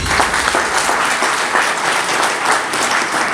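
An audience at a convention of Ugandans in Pretoria, Southern Africa, applauds a team, giving steady, dense clapping that fills the room evenly from start to finish.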